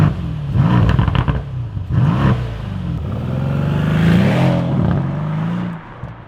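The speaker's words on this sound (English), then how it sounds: "Mercedes have still got the raucous V8 sound out of the back of this" The 4.0-litre V8 of a Mercedes-AMG C63 S revs hard several times, rising and falling in loud, raucous bursts before settling into a sustained throaty climb and dropping off at the end.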